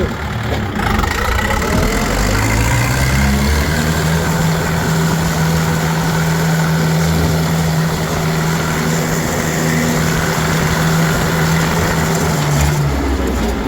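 Tractor engine pulling in third gear, a loud steady drone with a rising harmonic tone held for several seconds before easing off, heard close and continuous with no talk.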